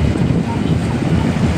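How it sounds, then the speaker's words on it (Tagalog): Strong wind blows by a river at low tide near Fort Santiago and Plaza Mexico, a loud, constant rumbling buffet against the microphone that drowns the surroundings. "Lakas ang hangin dito."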